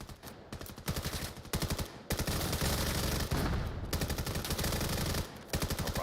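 Rapid automatic gunfire from the VR shooter VAIL during a competitive league match, loud and nearly continuous, with sustained bursts broken by a few brief pauses.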